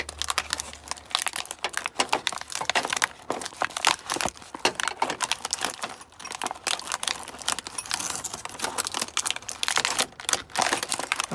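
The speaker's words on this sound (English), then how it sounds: "King is still trying to unwrap it." A package wrapper is crumpled and crinkled without pause, a dense, close and fairly loud rustle of plastic and paper with no talk.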